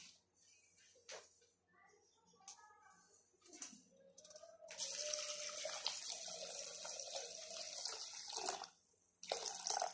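Tap water runs steadily into a pot, filling it for a mehndi hair pack in a home kitchen, a loud continuous gush starting partway through after quieter handling sounds, briefly stopping near the end and then resuming.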